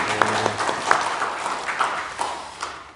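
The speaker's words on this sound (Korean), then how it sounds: "우리 하나님께 영광의 박수 올려드리겠습니다" A church congregation at a Sunday service gives a short round of applause, moderately loud clapping with a few sharp individual claps standing out.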